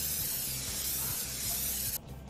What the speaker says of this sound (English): But whitening teeth with actual spray paint.